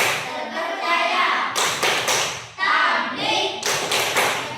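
Children play the rhythmic tepuk sifat wajib Rasul clapping game, with close, loud bursts of hand claps and thuds in a steady beat alternating with group chanting.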